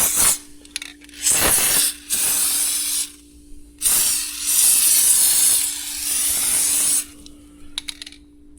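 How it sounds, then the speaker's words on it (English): Lubricant sprays onto a cotton planter chain in a barn as several long, loud hissing bursts. Short pauses between them carry faint metallic clicks and ratcheting from the chain. "I'm going to go ahead and lube up this chain"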